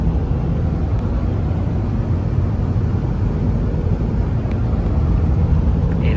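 Steady car road noise while cruising on a road trip, a continuous low rumble of engine and tires that stays even and loud throughout with no voices.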